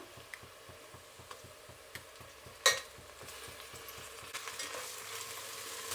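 Ginger garlic paste frying with onions in a pan, a soft steady sizzle under a regular ticking rhythm of stirring, with one sharp clink midway and the frying growing a little louder near the end.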